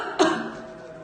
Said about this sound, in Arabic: تعمد الطبيب تصوير سعال المريضة